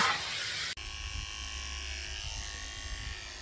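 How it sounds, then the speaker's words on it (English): Electric dog clippers fitted with a number 4 blade run on a Yorkie puppy's back during its first haircut, a steady close buzzing drone that starts abruptly after a brief louder burst and hums on evenly. "So I'm using my number 4 blade on her back."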